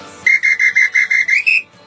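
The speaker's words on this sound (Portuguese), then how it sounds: "apito de samba" Samba whistle blown in eight quick, loud, shrill pulses, close up, with the last blast bending slightly higher before stopping, and no talking.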